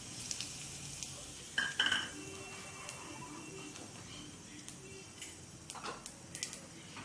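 Ajwain (carom seeds) dropped into hot oil in a kadai, made while cooking spicy bhindi, gives a soft, steady sizzle with a brief burst of crackling early on and a few light clinks.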